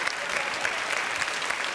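Steady, dense studio audience applause on a French television variety show, a continuous wash of many hands clapping without a break.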